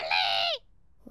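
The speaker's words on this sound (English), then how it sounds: "Peppa, George, this is our pet parrot." A cartoon parrot squawks once, a short bright, slightly falling call lasting about half a second, close and clear, followed by near silence.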